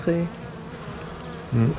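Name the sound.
honeybees buzzing at an opened hive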